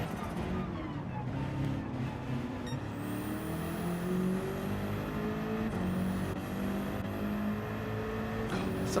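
Race car engines in Gran Turismo 7 at Watkins Glen during a daily race, a Porsche among them, with layered rising and falling engine tones as cars pass near, some faint voices underneath.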